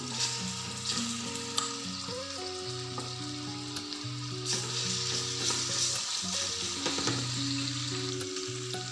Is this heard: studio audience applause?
no